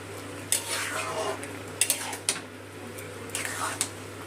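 A metal spoon stirs Maggi noodles with vegetables and pepper in a pan, giving sharp clinks and scrapes against the metal in a few bursts over a low stove hum, while a voice speaks.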